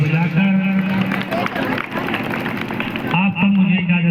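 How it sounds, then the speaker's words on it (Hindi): A village crowd claps loudly at an Independence Day gathering, a dense sustained patter under a voice talking over it. "तालियां कमजोर है भाई, जोरदार तालियां।"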